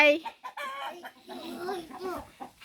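Startled chickens at a rural garden home cluck and squawk agitatedly in a continuous, overlapping chorus, close and fairly loud, with a brief crow-like call at the start.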